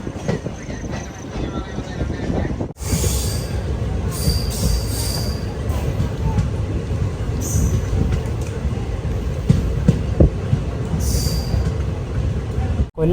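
Vanchinad Express chair car standing at Kollam Junction station, with a steady low rumble of train and platform noise and brief high wheel squeals and hisses throughout.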